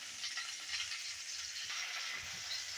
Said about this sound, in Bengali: এবার দিয়ে দিচ্ছি ফুলকপি। ফুলকপিটা দেওয়ার পরে নেড়ে চেড়ে দিচ্ছি।